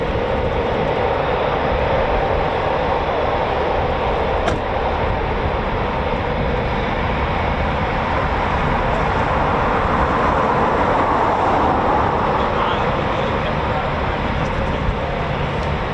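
A Eurofighter Typhoon FGR4 jet taxiing past at RAF Coningsby, a steady, loud broadband engine roar and whine that holds evenly throughout without pause.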